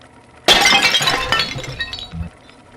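Porcelain tea set shattering in the video game Bioshock 2: one loud, sudden crash followed by a spray of bright tinkling shards that trails off over about two seconds.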